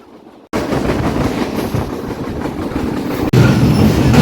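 The Sundarban Express passenger train runs on the rails near Darshana junction, with a loud, continuous rumble and rattle of wheels and carriages, heard from on board, plus a sharp clunk partway through.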